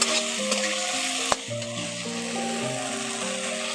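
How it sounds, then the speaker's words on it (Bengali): Potatoes mixed with green chilli and cumin paste sizzle softly in a pan as a spatula stirs and scrapes, with one sharp knock midway and faint music underneath. "কাঁচা লঙ্কা আর জিরে বাটা একসঙ্গে দিয়ে ভালো করে আবার আলুর সঙ্গে মিশিয়ে নিচ্ছি"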